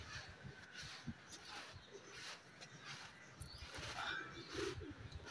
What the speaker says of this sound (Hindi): दो कबूतर आए हुए हैं